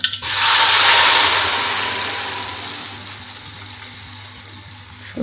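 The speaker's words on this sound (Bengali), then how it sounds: "অল্প সময়ের মধ্যে দিয়ে দিচ্ছি সরিষাগুলো" Mustard seeds hit hot oil in a pan with a loud, sudden sizzle that starts the moment they drop in. The crackling hiss then slowly fades as the seeds fry, and no one speaks over it.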